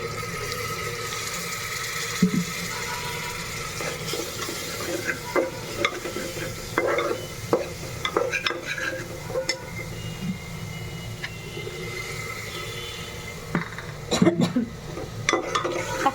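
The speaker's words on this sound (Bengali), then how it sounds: "আমি মশলাটাকে খুব ভালো মতো কষিয়ে নেব" Ground coriander and dry spices cook with a splash of water in a pan for khichuri, a soft continuous sizzle with scattered clinks and scraping stirs, no talking.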